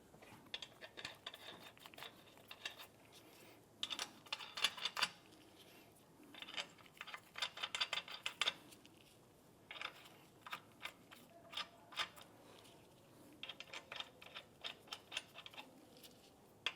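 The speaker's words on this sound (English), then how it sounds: "Let's get our lug nuts installed." Lug nuts are spun onto a 2015-2020 Cadillac Escalade wheel, heard as bursts of rapid metallic ratcheting clicks in short runs with pauses between, fairly faint, with no voices.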